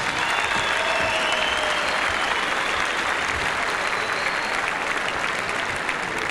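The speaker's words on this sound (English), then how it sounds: "I think a nice big round of applause." Crowd at a boxing fight bursts into loud, sustained applause, dense clapping that holds steady throughout with no pauses.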